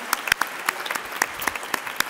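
Scattered applause from a small audience at a round-table event about uniting people around a national emblem, with sparse, distinct claps at moderate distance over about two seconds and no talk.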